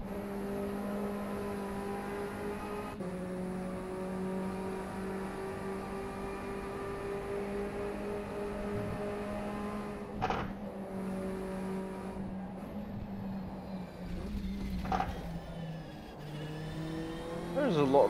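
Race car engine in the rFactor 2 sim racing game during practice at Silverstone, a steady droning whine with shifting pitch, a couple of sharp gear changes or revs near the end, and faint talk over it.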